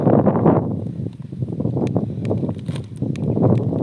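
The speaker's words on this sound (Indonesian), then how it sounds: "Angin gunung ini ya memang mengundang kenikmatan yang hakiki." Mountain wind at Puncak Sabi in Aceh Barat Daya blows steadily, a loud rumbling rush against the microphone that swells and eases, with a few faint rustles mixed in.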